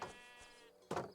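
Sheep in Minecraft bleat in short, faint calls on a coastal ridge, with a louder burst of noise near the end.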